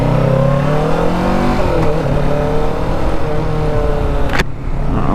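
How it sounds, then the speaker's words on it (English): Kawasaki Ninja 650 motorcycle engine on the road at a demo day, a steady loud drone rising and falling in pitch as the rider shifts through revs, heard close with constant wind noise and no talk. "got on a Ninja 650 here"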